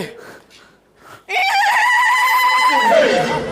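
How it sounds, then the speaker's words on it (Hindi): A comedy stage show's horse-neigh sound effect rings out loud and shrill for about two seconds, a wavering whinny that slides downward at the end, following a moment of faint background voices. "सुरेश, तुमने तो कहा था स्कूटर है, ये तो घोड़ा है"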